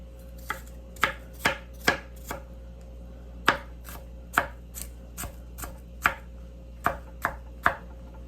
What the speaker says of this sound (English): I'm going to take about 1/2 of a small onion, and I'm going to begin chopping that up.